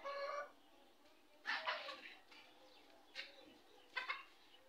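Hens that have been fed paddy rice give several separate, nasal clucks in short bursts, spaced a second or so apart against a quiet background.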